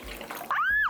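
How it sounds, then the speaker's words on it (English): Water is poured into a bowl for sourdough dough, a brief close splash and gurgle rising after a moment of soft background noise. "First, what you're gonna put in is 700 grams of water."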